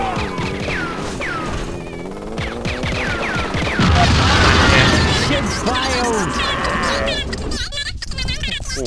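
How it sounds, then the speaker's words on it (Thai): A car bursts into a loud, broadband explosion about midway through a GTA London 1961 game session, with police gunfire nearby and someone talking excitedly throughout, the blast rising over his voice for about a second. "รถจะระเบิดแล้วมั้งเนี่ย"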